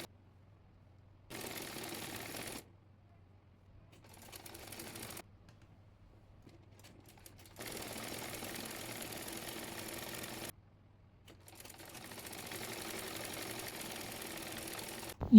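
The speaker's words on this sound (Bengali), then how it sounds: "এবার চাপ সেলাই দিয়ে নেব।" A sewing machine top-stitches a kameez in three or four short bursts of rapid mechanical stitching, each a few seconds long and separated by near silence, moderately close.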